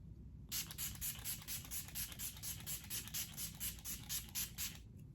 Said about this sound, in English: And then now I'm gonna do a quick spray.